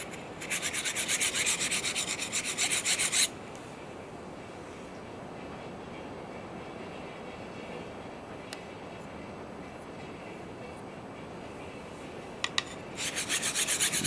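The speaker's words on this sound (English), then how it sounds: "Don't stop grinding until you get that burr." A Simmons broadhead is ground under firm pressure to raise a burr. Loud, steady rasping strokes fill the opening seconds, then a long quieter stretch, and the harsh grinding returns at the end.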